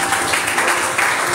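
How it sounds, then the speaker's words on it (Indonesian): Dense, steady applause from a church congregation, a continuous broadband patter of many hands clapping at once with no gaps. "Beri tepuk tangan bagi Tuhan."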